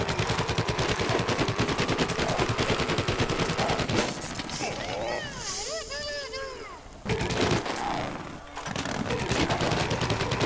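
Video game gunfire in Plants vs Zombies Garden Warfare, loud continuous rapid automatic shots, breaking off for a few seconds of whooshing effects and then resuming.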